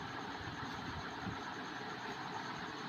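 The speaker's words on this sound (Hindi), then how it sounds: "उल्टा करके हमें सिलाई लगानी है इसको।" Sewing machine running steadily while stitching a bag made from old trousers, a continuous close mechanical whir that holds at an even level throughout.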